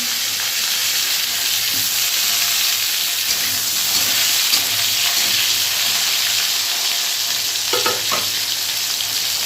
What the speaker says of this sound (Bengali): তেলের মধ্যে দুটো কালো জিরা ফোড়ন দিয়ে আলু লম্বা লম্বা করে কেটে রেখেছি, সেই আলুটা দিয়ে দিলাম